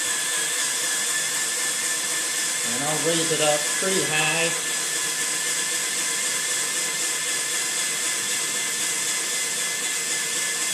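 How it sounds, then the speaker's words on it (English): A drill whirs in a steady, loud drone throughout, driving a scissor lift mechanism, while someone speaks briefly over it. "I could take the hand crank off and just use the drill press."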